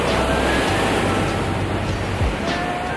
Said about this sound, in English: I'm sorry if you hear like the waves behind me.